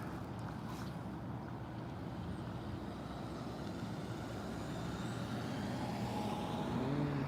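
Steady road traffic with a car passing at a street where a truck is turning and a bus pulls up, a continuous low engine and tire rumble that swells slightly toward the end.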